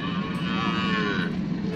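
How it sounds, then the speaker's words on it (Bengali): Cattle moo at a village livestock market selling cows, goats and chickens: one long, loud, close lowing call fills the clip over a background murmur. "গরু, ছাগল, মুরগির হাট বসেছে"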